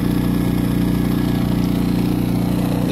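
A Powerhorse 2000 W gas-powered portable inverter generator idles low in eco mode, giving a steady, even engine hum heard alone at close range.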